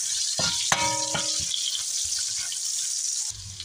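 Chopped onion and garlic hit hot oil in a pan, setting off a bright crackling sizzle with a few sharp spatters, followed by steady frying.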